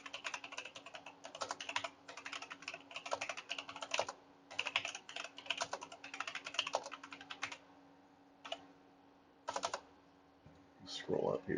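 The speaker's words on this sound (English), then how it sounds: "So let's let me type this." Fingers type quickly on a computer keyboard during a creative writing session, close-up clattering bursts of keystrokes broken by short pauses, with a soft voice murmuring near the end.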